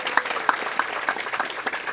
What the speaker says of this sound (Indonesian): Mari kita tepuk tangan untuk Tuhan Yesus.